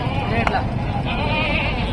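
A goat, one of the animals for sale at a Dera Ghazi Khan livestock market ahead of Eid, bleats once briefly amid the noisy market crowd, with people talking throughout.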